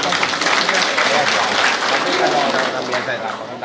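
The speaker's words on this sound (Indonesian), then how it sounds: "Tepuk tangan Bapak Ibu sekalian." Audience applause at a Riau Malay customary council (LAM Riau) ceremony, steady, dense clapping from a large crowd filling the whole stretch at even loudness.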